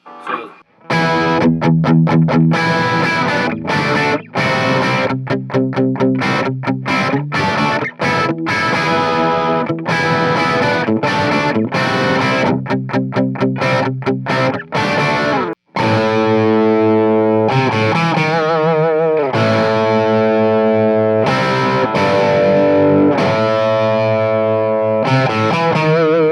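Electric guitar played through a Marshall MKii Studio amp with a distorted, effects-laden tone, sustained chords and riffs ringing loud and steady for the whole stretch, with a brief word spoken at the start.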